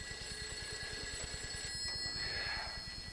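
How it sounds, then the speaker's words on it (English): A telephone rings late at night in a funeral home, a steady rapid bell trill heard continuously and fairly faintly in a quiet room. "the phone rings"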